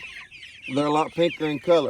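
Hens cluck near the microphone in a short burst of several rhythmic calls, following a faint higher chirp, with a brief spoken word at the start.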